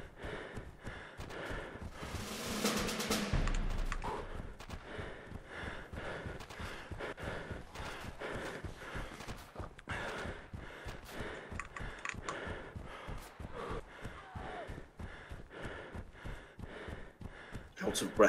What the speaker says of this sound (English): Never get used to all the panting.